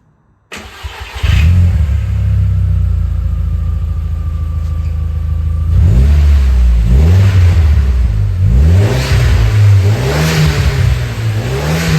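A first-generation Audi TT with a new exhaust system cranks and catches, settles into a deep idle, then revs repeatedly in rising and falling surges with a throaty, loud exhaust note.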